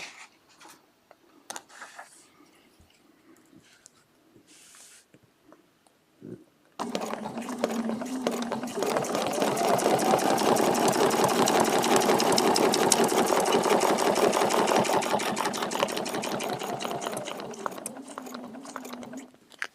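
Sewing machine stitching a feather plume along a template, quiet handling at first, then a loud steady run of rapid needle strokes for about twelve seconds before it slows near the end.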